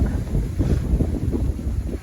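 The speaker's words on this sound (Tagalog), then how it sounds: "ang lakas ng hangin" Strong mountain wind buffets the microphone in low, rumbling gusts, loud and continuous with no other clear sounds.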